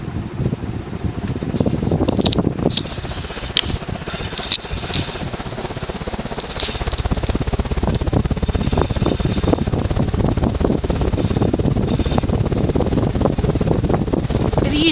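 Shi Chen 52-inch GE-Vent ceiling fan spinning at full speed, around 250 RPM on high; a steady, rushing whoosh of moving air with a soft rumble that grows louder and more constant partway through.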